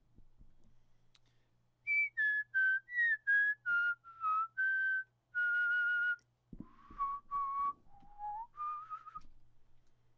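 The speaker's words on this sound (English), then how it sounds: "I need to work on my whistling" A person whistles a short melody of clear, sustained notes in two phrases with a brief pause between, fairly loud and close, with no talking.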